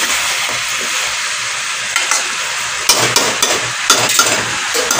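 Greens, stalks, pumpkin, potato and a rohu fish head sautéing in a pan, loud and close, with a constant sizzling hiss broken by scraping stirs that grow more frequent toward the end.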